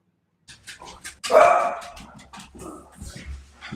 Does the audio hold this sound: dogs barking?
yes